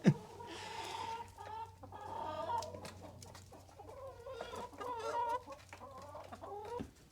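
Farm chickens clucking close by in a flock pen, a steady run of soft clucks and short calls with a low constant hum beneath, with no talking.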